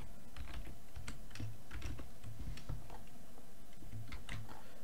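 Rapid, steady keystrokes on a computer keyboard while writing Python code, close and fairly quiet, with an irregular clicking rhythm and no talking.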